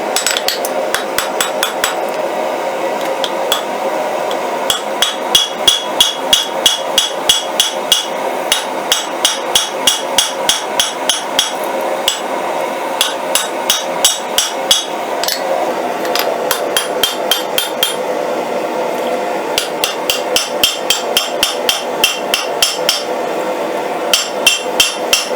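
A hammer forges the heated handle of a railroad spike knife on an anvil to draw it out, ringing with rapid, loud metallic blows in fast bursts and brief pauses, close up with no talking.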